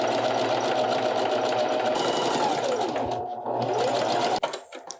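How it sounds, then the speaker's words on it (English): A sewing machine runs a steady zigzag stitch along a tie top, a loud close whirring hum that holds continuously before stopping abruptly near the end. "One more thing of zigzag stitching"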